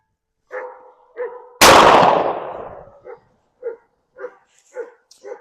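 A single loud shotgun blast, fired with Federal Premier STS shells reloaded many times, cracks out near the mic, with dogs barking repeatedly before and after it.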